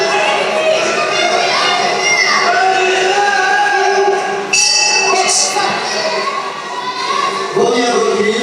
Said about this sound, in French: Première reprise, quelques applaudissements,